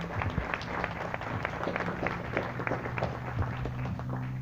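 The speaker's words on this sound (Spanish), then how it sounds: "Vamos a darles un fuerte aplauso." A church congregation claps in welcome during a service, a steady wash of many hands applauding at moderate distance, with a low hum of music or voices beneath.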